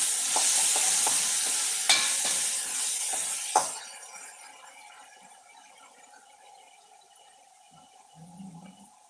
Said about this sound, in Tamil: உருளைக்கிழங்கு இந்த பக்கம் நல்லா வேகட்டும்